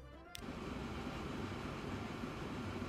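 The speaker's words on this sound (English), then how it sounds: "Oh, here comes the train." Simulated train from the Transport Fever 2 building game rolling past with a steady, broad rumbling clatter, after an abrupt start, faint overall and continuous with no talk.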